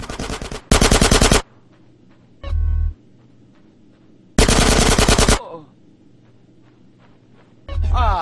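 Bursts of machine gun fire in the video game GTA San Andreas during a gang shootout mission, two long loud volleys separated by quieter gaps, with short thumps and other game sounds in between.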